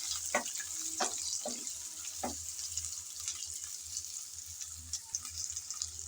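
Potato strips frying in a pan with bathua greens, a soft steady hiss with a few sharp clinks and scrapes of stirring early on, fairly faint, no talking.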